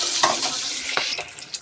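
Pomfret fish frying in a pan of oil, a soft, crackling sizzle with a few scraping stirs and light clinks near the end, fairly quiet and close.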